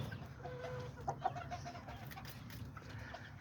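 Small Azteca bantam chickens, a little rooster and hen, give soft clucks and a few short calls in a pen, over a steady low rumble of background noise.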